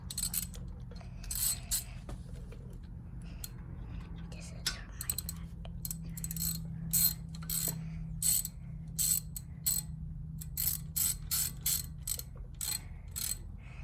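Ratchet wrench tightening bolts during a PowerStop brake kit install on a 2012 Buick Regal Turbo, a run of sharp, rapid clicking bursts close by over a steady low hum, with the clicks coming in quick repeated strokes.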